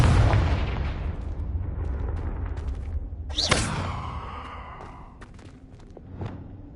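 Confringo blasting spell goes off as a deep, loud rumbling blast that decays into a long roaring tail, then a sharp whooshing crack and crackling debris fade away.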